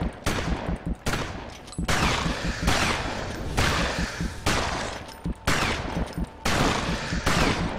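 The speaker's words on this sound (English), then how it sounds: "I need to clear out this whole zone with ranged weapons." Ranged weapon gunfire in the action RPG Victor Vran, with repeated bursts of shots fired in quick succession over about eight seconds, loud and steady with short gaps between volleys.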